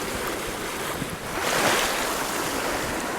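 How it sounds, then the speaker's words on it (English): Strong wind buffets the microphone at a rocky Lake Superior-style shore at Vermillion Point while waves wash and surge in a continuous broadband roar, swelling slightly midway, with no voices. "It is very windy out today"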